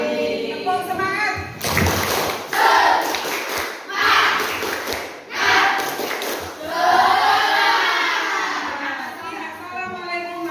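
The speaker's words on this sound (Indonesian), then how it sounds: "Tepuk semangat." A seventh-grade classroom of students performs a rhythmic spirit clap, sharp clap bursts at uneven intervals over loud, excited chanting and shouting voices throughout.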